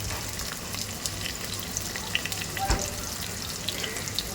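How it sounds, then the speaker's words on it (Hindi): Chopped tomatoes sizzling in a hot frying pan for a methi bhaji, a steady low crackle and hiss with faint pops, alone and fairly quiet. "ये मैंने टमाटर कट करके डाल दी है।"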